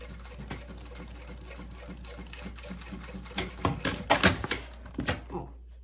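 A sewing machine backstitches a seam on a handbag decorated with crystal transfer, running in a steady mechanical whir that swells into louder, choppy bursts near the end before stopping.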